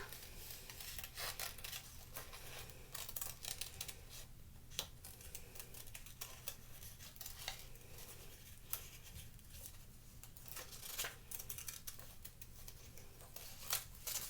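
Scissors snipping along a line to cut out paper hand shapes at a table, a steady run of soft close snips and paper rustles, faint and unbroken, with no voices.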